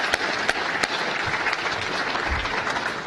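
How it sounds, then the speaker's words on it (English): An audience in Turlock, California gives a sustained round of applause, a steady mass of many hands clapping at even loudness throughout, with a few louder single claps close by. "we need to owe him a round of applause"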